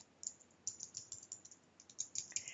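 Someone typing a username and password on a computer keyboard, a quick irregular run of light, close key clicks in small bursts, thin and faint with no talking.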